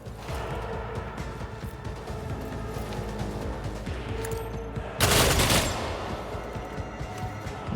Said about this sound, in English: Just so I don't run out of ammo, we'll shoot with this one.